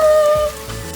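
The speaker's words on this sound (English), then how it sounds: "We need it to stop raining." Rain falls steadily outdoors as a continuous patter, close and fairly loud, with a faint tonal hum over the first half.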